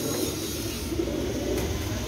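Crossbred pigeons, including golden teddy crosses, coo softly in low, rounded murmurs under a constant faint background hum, with no one speaking.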